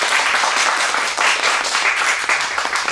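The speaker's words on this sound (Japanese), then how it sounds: "にも大きな拍手をお願いします。" Steady, dense clapping fills the room as the audience applauds at a live acoustic concert with piano and guitar accompaniment, loud and continuous throughout without any speech.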